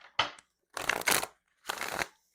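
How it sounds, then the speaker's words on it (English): Tarot cards are shuffled close up in three quick, crisp riffling bursts separated by brief silences, soft and papery against a quiet room. "one more shuffle"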